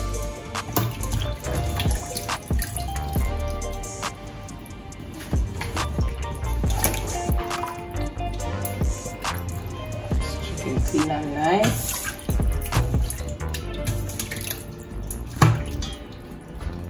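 Tap water runs into a container for washing a whole chicken, with splashing and dripping under a steady running-water noise, alongside occasional clatter and faint talk.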